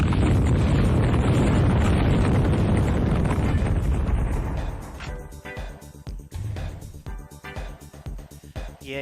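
A missile blast in a video game bursts as a loud, dense rumbling explosion that holds for several seconds, then breaks into scattered bangs and crackling debris as it fades.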